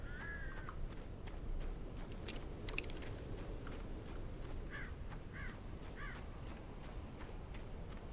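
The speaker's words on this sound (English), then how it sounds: "Birds." Crows in the Alan Wake video game give several short harsh caws, spaced a second or so apart, moderately loud over a dense, rumbling ambient noise bed.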